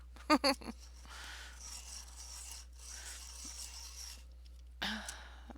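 A red colored pencil is turned in a sharpener, giving soft, faint scraping rasps in several short bursts separated by pauses, recorded close and quiet.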